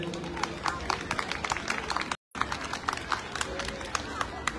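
Audience applause at a Turkish art music concert, a steady sustained clapping from a crowd, close and even, with a brief dropout midway.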